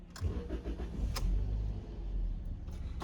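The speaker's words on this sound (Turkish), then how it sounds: "Motor sesimizi duyarak sürüşümüze başlayalım." A 2015 Toyota Auris 1.33 engine cranks and catches, then settles into a steady low idle, close by and fairly loud, with a couple of small clicks.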